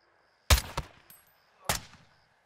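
Two loud, sharp gunshot bursts in Call of Duty: Modern Warfare II, about a second apart, each with a short decaying echo against near silence.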